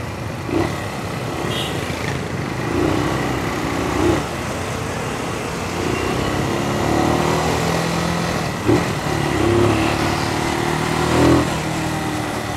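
A Brixton BX 250 Glanville motorcycle accelerates hard in first gear, its engine buzzing and rising with small surges while riding along, with wind noise around it.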